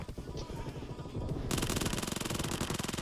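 Rapid automatic gunfire rattles from a multiplayer shooter video game, loud, continuous bursts that intensify into a dense unbroken stream in the second half.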